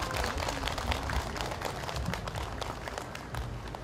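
An audience gives a dense, steady round of applause at an outdoor Cheonggyecheon stream poetry-and-music performance, sustained and fairly close throughout.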